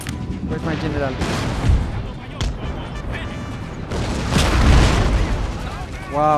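Cannon fire in the Empire: Total War battle, repeated booming blasts and musket-like reports layered over a continuous din of combat, with someone talking excitedly throughout.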